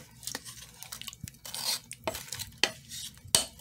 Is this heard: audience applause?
no